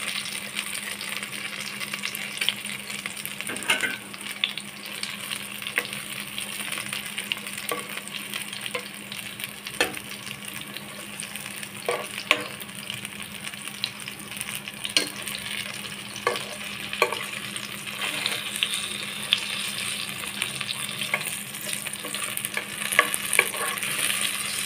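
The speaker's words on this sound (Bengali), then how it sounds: "আমি 7-8 মিনিট সময় নিয়ে পাকোড়াগুলো উল্টিয়ে পাল্টিয়ে কড়া করে ভেজে নিয়েছি" Tomato and lentil pakoras deep-fry in hot oil, a steady dense sizzle with occasional crackles and soft stirring clicks throughout, continuous and close.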